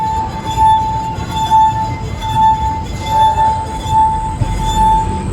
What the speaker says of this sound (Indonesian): lalu diaduk secara perlahan, dan setelah itu diputar ke bibir gelas